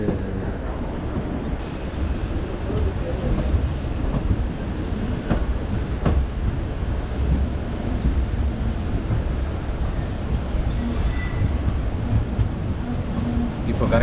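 A train arriving at Vriddhachalam station rumbles and rattles steadily with broadband noise throughout, close and loud, with faint clicks as it rolls slowly along.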